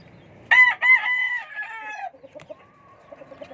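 A rooster crows loud and close, a sharp two-part opening followed by a drawn-out call lasting about a second and a half, then quieter clucks and farmyard noise, with no one speaking.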